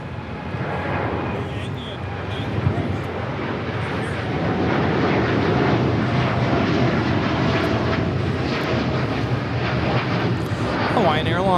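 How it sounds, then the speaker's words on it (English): A Hawaiian Airlines Boeing 787-9 Dreamliner jet takes off from Los Angeles International Airport bound for Honolulu, producing a loud, steady, broad jet-engine roar that holds for the whole stretch. "Hawaiian Airlines taking off to Honolulu on the 787-9 Dreamliner"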